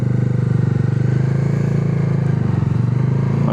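A motorcycle engine idles or runs nearby near a temple parking area. Its steady, rapid low-pitched putter continues throughout at fairly close range, with no talk.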